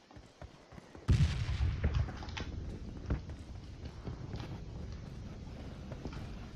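Sharp gunshot bursts in the mobile game PUBG Mobile ring out amid a noisy, busy background, with a loud blast early and scattered shots afterward.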